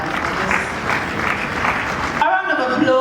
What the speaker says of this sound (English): A round of applause for the great